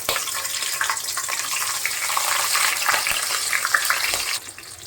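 Green chillies and chopped onion hitting hot oil for a Telugu gongura moong dal curry give a steady, dense sizzle that holds for several seconds, then drops off sharply near the end.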